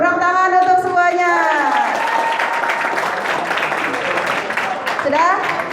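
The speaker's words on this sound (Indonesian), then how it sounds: "Oke, tepuk tangan untuk semuanya." Audience clapping hands at an Islamic junior high school session on Quran recitation, broad steady applause with a sung or chanted voice sweeping over the start and voices mixed in throughout.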